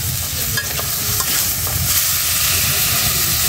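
Shukto with ginger paste, radhuni and cumin frying in a pan, a dense, continuous sizzle with occasional stirring scrapes, close and loud with no voice.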